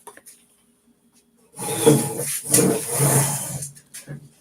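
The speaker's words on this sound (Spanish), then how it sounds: "Déjenme quitar esta silla" A chair dragged and moved across a classroom floor, a scraping, wooden rumble lasting about two seconds, fairly close, with a teacher's voice faintly before and after.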